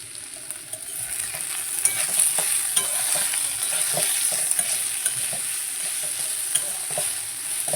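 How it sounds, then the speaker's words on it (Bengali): Chilli powder and turmeric fry in hot oil for a home-style bhola fish curry with potatoes, a steady bright sizzle broken by frequent scraping strokes of a spoon stirring the pan. "তো এবার একটু ভালো করে কষার পালা"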